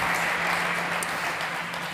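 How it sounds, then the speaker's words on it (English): Audience applause at a startup stage session of a tech summit, a steady, even wash of many hands clapping from a crowd, sustained at moderate level without voices on top. "Big applause, please."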